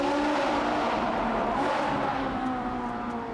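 A Ferrari's loud V8 engine roars steadily at highway speed, its deep note holding and swelling slightly, with road and wind noise underneath.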